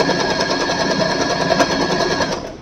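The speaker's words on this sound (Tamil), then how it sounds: "இப்போ நம்ம ஸ்டிச் பண்ணுறோம், ஸ்டிச் பண்ண சொல்லுவோம்" An Usha Janome Wonder Stitch sewing machine runs steadily, a loud, close, continuous whirring hum with a fast needle rhythm that winds down at the very end.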